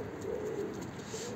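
A pigeon in a coop gives a soft, low cooing call, close and continuous over a short moment, with a faint hiss of room noise behind it.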